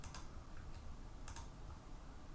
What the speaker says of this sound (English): let's type in the customer information for now